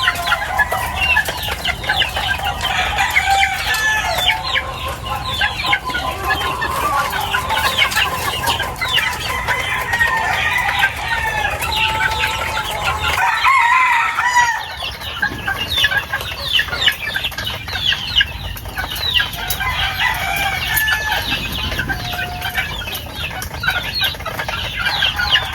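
Gamefowl chicks and chickens in a breeder's pens keep up dense, continuous clucking, cheeping and occasional crowing, close and busy throughout, without any talk.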